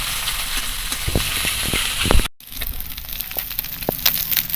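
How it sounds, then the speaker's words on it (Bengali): Small mourala fish shallow-frying lightly in a pan, a steady close-up sizzling hiss with a few soft pops and clinks, interrupted by a brief cut midway before the sizzle resumes. "এর দুদিকেই একদম হালকা করে ভেজে নিতে হবে"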